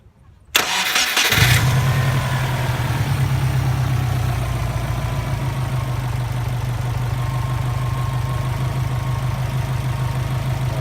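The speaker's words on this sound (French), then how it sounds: "je vais vous faire écouter le bruit d'un 4 cylindres à plat" A Subaru GT's flat-four engine cranks and catches after a moment of quiet, revs briefly, then settles into a steady, throbbing low idle that continues close and loud.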